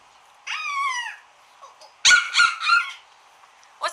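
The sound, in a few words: child imitating a monkey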